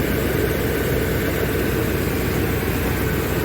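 A 1988 Chevy OBS pickup truck idles just after a cold start, a steady, dense low rumble that holds even and loud throughout with no changes in pace and no voices.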